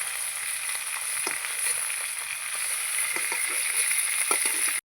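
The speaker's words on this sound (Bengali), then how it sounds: "যে কটা ছিল এগুলোকে আমি ভালো করে ভেজে নেব।" Shankar fish (stingray) pieces frying in oil in a wok, an even close sizzle with scattered light pops and spatula taps, cutting off abruptly at the end.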